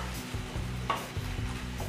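Tomatoes stirred into a spring-onion bhaji in a pan: a low hiss of cooking with a brief spatula scrape or clink, close and fairly quiet, with no talk.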